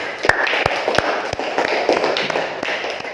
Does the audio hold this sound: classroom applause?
yes